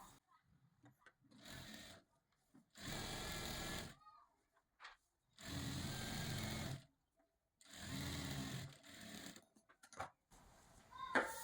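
A sewing machine stitches thread piping onto a sleeve in short bursts of rapid, whirring needle clatter, loud and close, separated by quiet pauses and light handling clicks.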